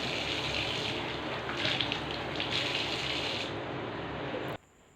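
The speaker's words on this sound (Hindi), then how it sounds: "जब हाथ मुँह धोने के लिए मैंने टैप ऑन किया तो आई came to know geyser on है" Water gushes from a tap into a basin, heated by a geyser, a steady close rushing flow that cuts off abruptly near the end.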